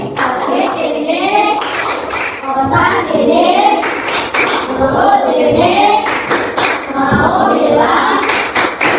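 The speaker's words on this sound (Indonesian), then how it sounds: "Tepuk terima kasih." A school class does a rhythmic patterned clap while children chant along in unison, loud bursts of clapping alternating with the voices in a repeating cadence.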